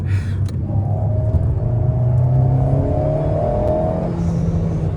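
An Alpine A110 sports car pulls hard under acceleration, its engine note climbing steadily in pitch over a loud, rumbling cabin drone, heard close with no speech.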